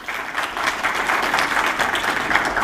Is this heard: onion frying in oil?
no